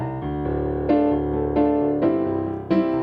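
Piano chords filtered down to a narrow low-mid band around 200 and 400 hertz, boxy and hollow with no sparkle, a few sustained chord changes played steadily and alone.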